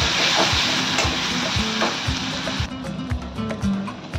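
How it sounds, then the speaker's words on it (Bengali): Onion paste fries in hot oil over a high flame, a dense continuous sizzle with crackling bursts and occasional stirring scrapes, close and fairly loud. "এবার দেবো এটাকে, হাই ফ্লেম দিয়ে ভালো করে ভেজে নেবো।"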